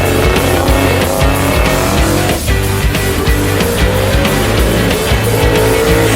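Audi S1 Quattro race car engine running about 1 bar of boost with roughly 630 horsepower at the wheels, a loud, continuous, rising engine roar, close and dominant with no talk.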